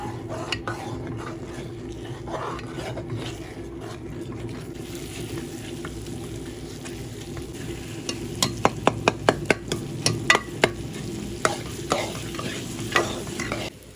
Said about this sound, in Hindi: अब हमने सूजी को अच्छे से घी में भून लेना है। चम्मच से हमने इसको हिलाते रहना है